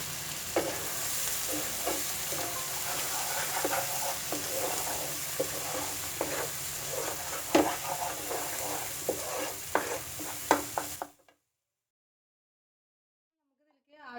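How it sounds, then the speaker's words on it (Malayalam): Ground onion paste frying in a pan for a matar mushroom curry gives a close, continuous sizzle broken by scraping stirs, then cuts abruptly to silence near the end. "അരച്ച് വെച്ച പേസ്റ്റ് ഞാൻ ഇതിലേക്ക് ചേർക്കാൻ പോവുകയാണ്."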